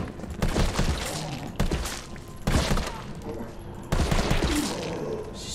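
Gunfire in Resident Evil 3 comes in four dense bursts of shots, each a loud crackling volley with a sharp attack that rings out before the next begins.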